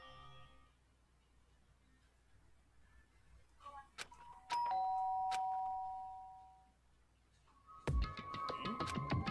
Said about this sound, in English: did I hear the doorbell?